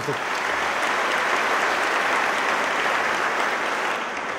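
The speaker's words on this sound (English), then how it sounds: "Let's give another round of applause to Alan" An audience applauds steadily and loudly for Alan, a project co-founder, at a secularism talk, a dense continuous clapping wash that holds without pause and with no voices over it.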